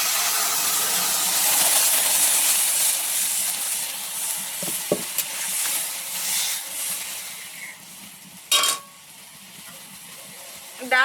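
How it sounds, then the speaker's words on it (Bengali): Spices are tempered into boiled masoor dal, a loud, close, hissing sizzle that fades gradually, with a couple of clinks from a utensil and a short burst of stirring near the end. "ডাল এই সেদ্ধ হওয়ার পরে আমরা এইভাবে করি, ফোড়নটা এইভাবে দিই"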